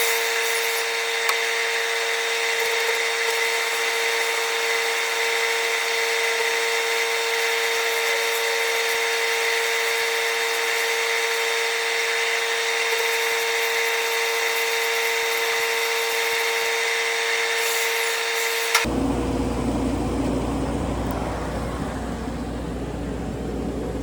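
A power tool fitted with a Hart wire wheel scrubs steadily across a weld during a mobile repair on a Moffett piggyback lift truck, a loud continuous whine and rasp that cuts off abruptly near the end.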